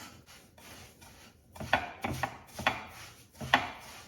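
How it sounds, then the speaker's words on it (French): Semolina grains rubbed and worked by hand with oil for harcha, a series of close, gritty rubbing strokes that grow louder partway through, with no talking. "je vais travailler un petit peu pour que l'huile imbibe tous les grains de semoule"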